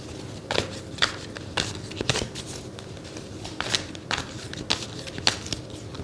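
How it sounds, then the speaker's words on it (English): Tarot cards being shuffled by hand, a run of crisp riffling snaps and soft papery rustles at an uneven rhythm, close and fairly loud with no talking. "Let's give it a good shuffle."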